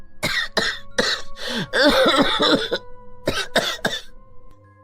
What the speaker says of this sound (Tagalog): Baka lalo akong dalahitin ng ubo.